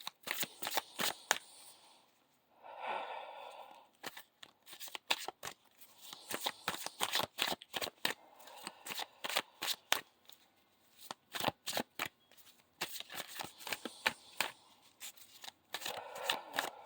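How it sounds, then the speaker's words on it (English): Tarot cards being shuffled by hand on a table, a long run of crisp rapid riffling bursts with brief pauses between, close and fairly quiet. "I pull the cards"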